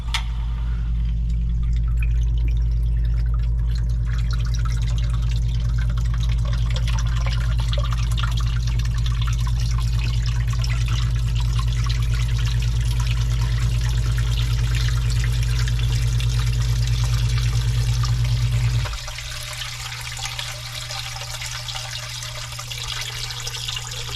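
Water runs and splashes steadily into a commercial sewage ejector pump sump with a loud low rumble, then the heavy flow cuts out, leaving quieter trickling and dripping.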